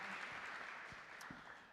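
A conference audience at a cyber insurance event gives faint, distant applause that blends into an even wash of room noise.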